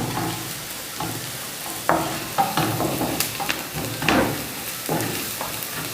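Onion, capsicum and spices are stirred in a pan, and the spoon scrapes and clinks in irregular strokes over a soft, steady sizzle.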